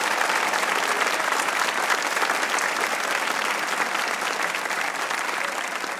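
A studio audience applauds a guest on a Pakistani comedy talk show, with dense, steady clapping that stays loud and even for the whole stretch before easing off slightly at the end.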